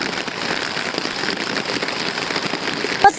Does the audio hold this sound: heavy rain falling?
yes